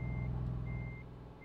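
Reversing beeps from a truck backing up in Euro Truck Simulator 2, a steady repeating electronic tone over low engine rumble, loud and close with no talk.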